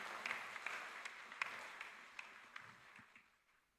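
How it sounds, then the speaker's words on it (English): Audience applause at the IYES 2018 conference session, faint and distant: a soft, steady patter of many hands with a few sharper claps standing out, fading toward the end. "Please clap your hands and encourage."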